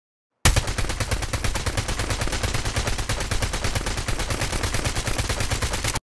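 Continuous rapid automatic gunfire from hip-firing a weapon in Call of Duty Mobile, a steady, dense stream of shots at close range lasting several seconds with no talk over it.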